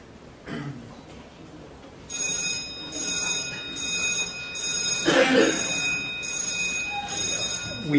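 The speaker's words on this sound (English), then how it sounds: "We have an alarm." An electronic alarm in a courtroom sounds as a loud, continuous ringing buzz that starts after a brief pause and keeps going steadily, with voices faintly underneath.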